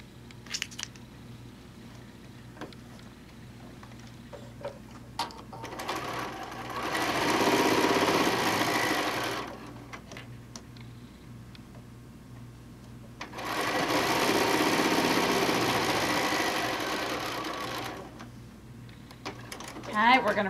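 A sewing machine stitches the center seam of a peacock quilt top made from a panel, in two sustained runs of steady whirring separated by quieter pauses with faint handling sounds.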